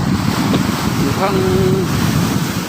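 Strong waves pound a shoreline lined with coconut trees at high tide, a loud, continuous roar buffeted by wind noise, with someone talking over it.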